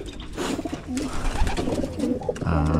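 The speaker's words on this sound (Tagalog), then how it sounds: "Tingnan natin tong ating mga ibon" Pigeons in a loft coo in soft, repeated low throaty calls, several overlapping, fairly close, with some background rustle.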